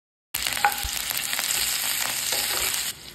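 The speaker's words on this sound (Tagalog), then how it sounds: "Saute lang natin ang garlic sa butter at olive oil." Garlic and shrimp with green onions sautéing in butter and olive oil in a pan, a loud, steady sizzle with stirring scrapes throughout and no talking.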